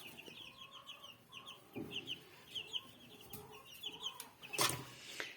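Chicks cheeping and clucking in quick repeated bursts, fairly close and moderately loud, with a few louder scuffs and thumps nearby, from Master Grey breed chicks.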